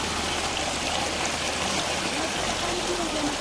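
Cold water rushes in a mountain stream along the high-altitude Amarnath Yatra route, a constant, close, full-bodied gushing with faint voices briefly audible beneath it.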